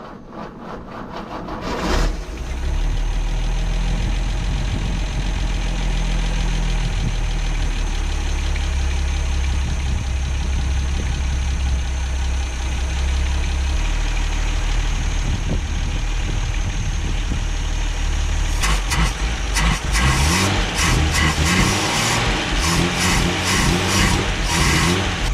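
An old Ford Falcon Ranchero, abandoned for years in a wrecking yard, idles steadily up close with a loud, continuous low rumble and a faint knocking texture throughout.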